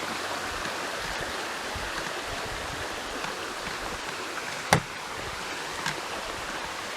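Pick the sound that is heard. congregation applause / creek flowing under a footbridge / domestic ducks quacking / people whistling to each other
creek flowing under a footbridge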